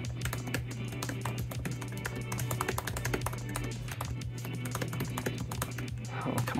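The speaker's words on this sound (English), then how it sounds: "I'm trying to also not look at the keyboard as well so I can see what I'm typing" Rapid keystrokes on a 2015 Retina MacBook keyboard form a dense, irregular run of soft taps, close and fairly quiet, over a faint steady hum.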